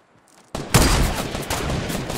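Fortnite battle royale gunfire bursts in loud and sudden after near silence, then carries on as a dense, roaring volley of shots.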